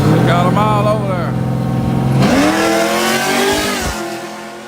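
A drag racing car launches hard down a dragstrip, the engine roaring loud and close as it revs up, then dropping in pitch as it pulls away, with voices talking over it.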